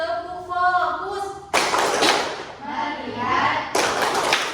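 A classroom does the tepuk fokus clapping chant, with a voice at the start and then bursts of rhythmic hand claps from the class, mixed with chanting voices.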